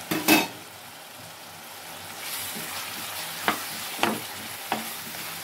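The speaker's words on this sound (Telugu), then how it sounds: "ఒకసారి కలుపుకుందాం ఫ్రెండ్స్." A spoon stirs drumstick and onion curry sizzling in a pan, with a steady frying hiss underneath and a few sharp scrapes and clinks against the pan.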